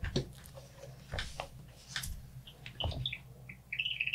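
Small bird-like chirps and tweets, a voice mimicking the sound of a creature drinking at a breakfast table in a tabletop fantasy role-play session, scattered in short bursts over a quiet room with faint murmurs.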